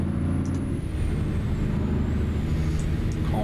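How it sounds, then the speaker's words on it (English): A heavy truck in American Truck Simulator gives a steady, close engine drone that runs throughout, with a brief air-brake hiss near the end. "Wow, this truck sounds amazing."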